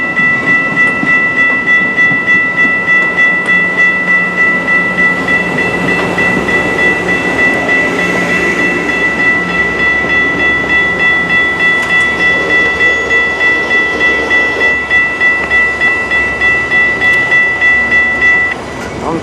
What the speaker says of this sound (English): Oh, we got a Metro train coming in.